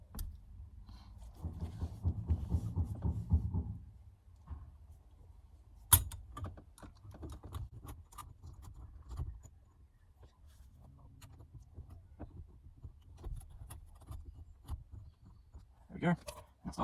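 Screws being driven into the backing plate of a steering wheel produce light metallic clicks, taps and rattles up close, with a brief murmur of voice and a few sharper knocks scattered among quieter handling noises.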